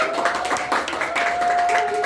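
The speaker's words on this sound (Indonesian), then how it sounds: "Boleh tepuk tangan dulu." Students in a classroom clap together in a quick, uneven patter of hand claps over a faint steady tone, with no talk standing out.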